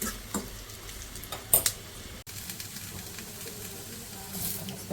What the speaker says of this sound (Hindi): इससे हमारा बघार हो गया रेडी। हम दाल पे डालेंगे।